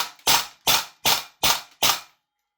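A VFC AKS74U gas blowback airsoft rifle fires five sharp, evenly spaced shots in quick succession, each a crisp close crack with a short tail, followed by silence.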